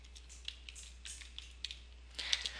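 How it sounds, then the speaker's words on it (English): Light, quick taps on a computer keyboard while entering a spreadsheet formula, scattered soft clicks that bunch into a faster burst near the end, close by and quiet over a low steady hum. "Then you start typing, and the typing will appear in cell D2"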